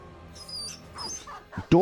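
A dog whimpers and yips in the Battle Brothers video game, short, high cries scattered through the clip, ending in a louder burst, over faint game background noise.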